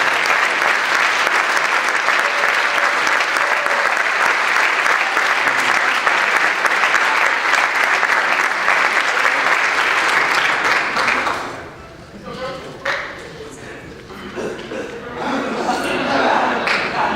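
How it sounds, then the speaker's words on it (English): Sustained loud audience applause honoring a softball team at an awards event, steady clapping for about eleven seconds, then fading into scattered claps, chuckles and crowd chatter before swelling again. "Please give them a big round of applause."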